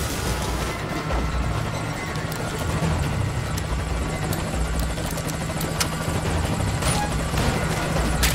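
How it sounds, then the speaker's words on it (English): A helicopter in Metal Gear Solid 5: Ground Zeroes approaches with a loud, steady rotor drone and engine roar, continuous throughout and growing fuller as it arrives. "I'm sending a chopper to pick you up."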